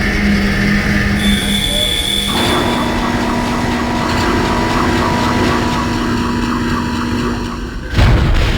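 A tram in the video game Dead Space rumbles along its rails loudly and continuously, with sustained tonal squeal and drone layered over heavy mechanical noise, ending in a sharp clunk.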